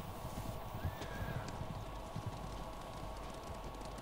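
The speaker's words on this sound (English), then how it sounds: "horses. They're coming for us." Horse hooves in the video game Ghost of Tsushima clop and thud steadily at a distance, a soft galloping rhythm over a low rumbling background.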